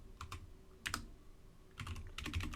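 Command-line typing on a computer keyboard: two short bursts of key clicks, a brief pair of louder strokes, then a denser run of taps, close and clear with no talking.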